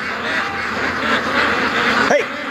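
Ducks quack at a lake in a steady, busy chorus close by, with a brief louder burst near the end.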